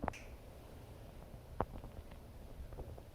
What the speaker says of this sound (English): snap my fingers